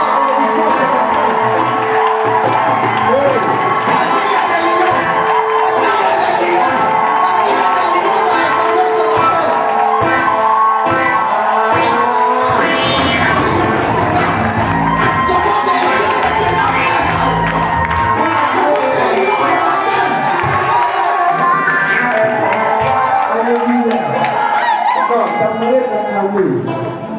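A church congregation at a Sunday service in Abobo shouts, whoops and cheers in acclamation, a loud, continuous crowd roar lasting throughout with music and voices mixed in.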